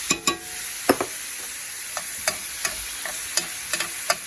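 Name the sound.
hamburger meat sautéing in a skillet for goulash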